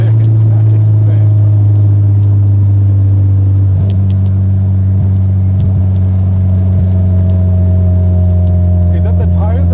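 Turbocharged VW Golf Mk1 with a 6-speed gearbox accelerating hard with wheelspin, a loud, deep, steady engine drone that rises in pitch partway through, with faint voices underneath.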